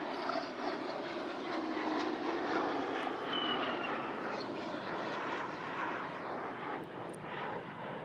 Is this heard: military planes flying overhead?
yes